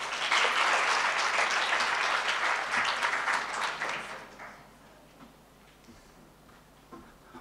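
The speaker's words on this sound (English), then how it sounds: "Let's give him a warm round of applause." Audience applause at a career expo greets a presenter, strong and steady for about four seconds before fading to a few scattered claps and quiet room noise.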